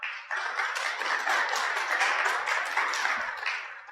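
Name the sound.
audience clapping hands at a church event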